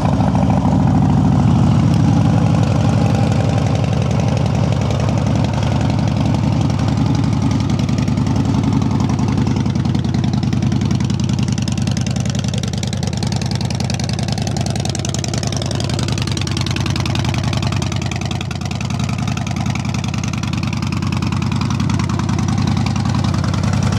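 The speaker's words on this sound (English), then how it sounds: "Let's go ahead and fire it up." A Harley-Davidson Dyna Fat Bob FXDF with a 103 engine and about 13,000 miles idles steadily, a deep, loud, continuous rumble heard close up for the whole stretch with only slight swells, no voices.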